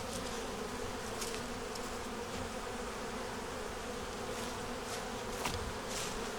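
Honey bees buzzing around a single-deep beehive under a magnolia tree at sunset, a steady, continuous hum of many insects close by, with no talking.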